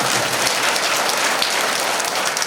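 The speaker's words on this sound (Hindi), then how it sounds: "और एक बार अश्विनी कुमार को जोरदार तालियों से स्वागत करें" An audience at a Hindu religious discourse gives loud, sustained applause to welcome a guest, a dense, even wash of clapping from many hands that continues without a break.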